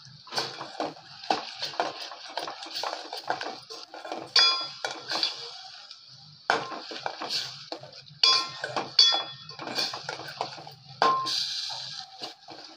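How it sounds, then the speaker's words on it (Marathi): Wet coconut paste is stirred in a pan over a low flame, with a utensil clinking and scraping against the metal in uneven bursts of light, close taps and no voices. "हे ओल्या खोबऱ्याचं वाटण। ते सुद्धा छान परतून घेणार आहोत बारीक गॅसवर।"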